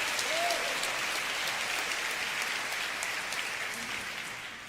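A church congregation claps together in a steady wash of applause, moderately loud and continuous, slowly fading away over a few seconds.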